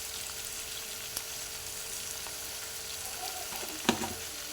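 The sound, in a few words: poha upma with potato frying in pan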